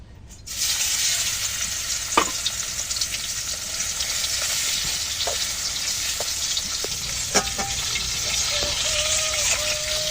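Small China puti fish fry steadily in a pan of hot oil, a dense continuous sizzle with a few sharp pops and spatters, close and unbroken throughout.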